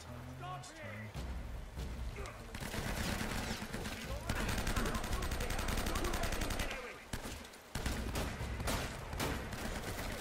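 Rapid gunfire from the Uncharted video game, dense bursts of shots and automatic fire running almost continuously at close range, with brief pauses and voices talking underneath.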